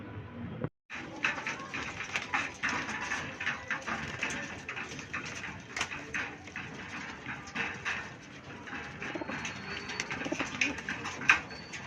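Racing pigeons arrive at a loft and coo softly in a steady murmur, with wing flutters and faint rustling nearby.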